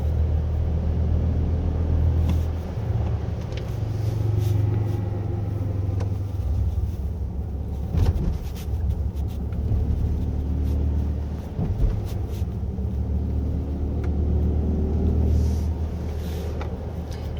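Synthetic drive sound plays inside the cabin of a 2023 Mercedes-Benz EQE350 Plus electric car on a winding road, a low steady rumbling hum that swells and eases with acceleration, moderately loud and without speech.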